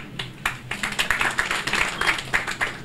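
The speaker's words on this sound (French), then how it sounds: "Je veux nommer Madame Diong, qu'il faut applaudir ici." Applause from an audience at a ceremony where materials are handed over to 20 schools, a short burst of scattered, fairly close hand claps with an uneven rhythm, heard without talk.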